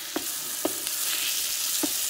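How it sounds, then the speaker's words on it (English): Chicken sizzles steadily in a hot electric frying pan with sesame oil, a bright crackling hiss, with a few soft clicks of a utensil stirring, close up and without speech. "Let's wallop that in, you can hear that sizzle."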